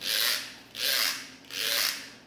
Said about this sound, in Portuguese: O reco-reco, ele é um instrumento que também pode ser utilizado como lúdico